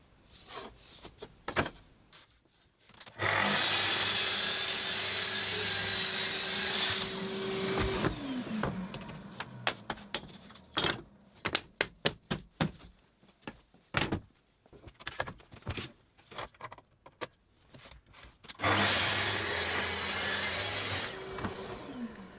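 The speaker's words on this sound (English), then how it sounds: "I'm cutting the shelves back to the correct depth on the MFT" Saw cutting wooden shelves to depth on a multifunction table: a loud motor whine runs for about five seconds, then a stretch of knocks and handling clatter, then the saw whines again briefly.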